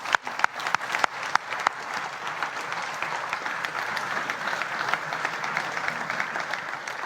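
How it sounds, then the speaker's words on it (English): An audience applauds at the Great Consciousness Debate at ASSC 25 in Amsterdam; a few loud, separate claps open, then swell into continuous crowd clapping that holds steady throughout. "I think we can applaud."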